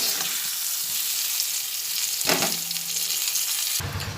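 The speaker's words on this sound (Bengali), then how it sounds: "একবারে পটলটাকে ভেজে নিচ্ছি" Pointed gourd (potol) fries in hot oil, giving a continuous near sizzle with a stirring scrape midway and a sharper burst of crackling at the very end, with no voices.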